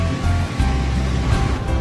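Sea waves on a vast open sea at sunset off Hainan Island, a steady, loud wash of surf and rushing noise that continues throughout with no voices.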